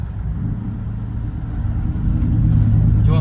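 An American car's engine while driving, a deep steady rumble from inside the cabin that swells louder partway through, with no talking.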